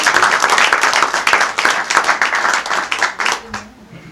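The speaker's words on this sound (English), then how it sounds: "let's give Chaim a round of applause" Audience applause for a magician's volunteer helper at a magic show in the Parlour of Prestidigitation at The Magic Castle, a dense close burst of clapping that tapers off near the end.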